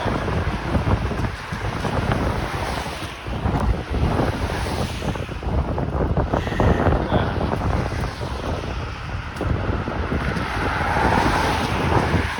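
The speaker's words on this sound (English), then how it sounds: "it's so windy right now." Heavy wind buffeting a microphone, a constant loud rumbling roar with gusty surges throughout, drowning out everything else.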